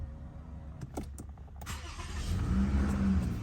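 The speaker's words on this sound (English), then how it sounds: "Now we're gonna start it up, check engine light on." A 2009 Lexus ES 350 V6 cranks briefly, then catches and settles into a rising, steady idle up close, with a few clicks beforehand as the ignition turns over after an O2 sensor replacement.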